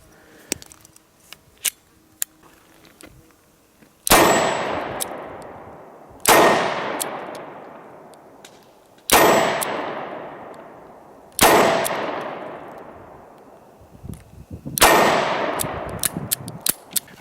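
Five loud, evenly spaced revolver shots from a Smith & Wesson M&P340 firing 130-grain Winchester PDX-1 rounds, each a sharp crack with a ringing decay at an outdoor range, after a few quiet clicks and handling sounds.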